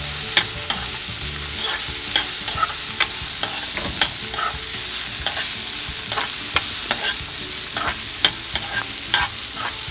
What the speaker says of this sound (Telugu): మొత్తం ఇలా కొంచెం ఫ్రై అయ్యే వరకు ఇలా వేస్తూ ఉండాలండి